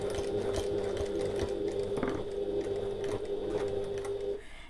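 A sewing machine stitches along the last side of fabric for a bag zip bridge, a steady close mechanical hum with rhythmic needle thumps, running continuously before stopping at the end.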